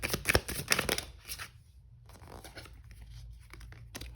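Oracle cards are handled and shuffled in a steady papery flurry of close riffles and slides, strongest at the start, then tapering to softer shuffling and light card contact with no talking.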